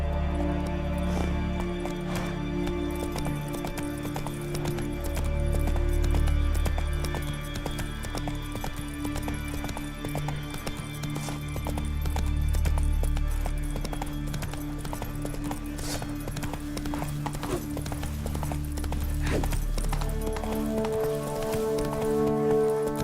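A horse's hooves clip-clop steadily along in The Witcher 3: Wild Hunt, a continuous rhythmic trot under a droning musical score, with a low rumbling swell returning every few seconds.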